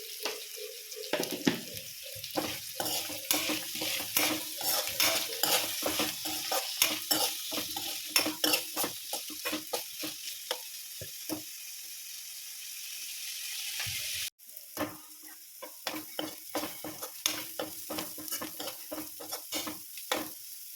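Sliced onions frying in a pan for a homestyle Kerala country chicken curry, stirred with steady scraping strokes over a constant sizzle, with a brief pause midway before the stirring resumes.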